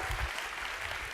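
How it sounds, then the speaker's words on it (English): Audience applause for the CapCUE board at the opening of the annual CapCUE Tech Fest, a dense, steady wash of many hands clapping throughout, fairly loud and close, with no clear voices over it. "Give those people a round of applause."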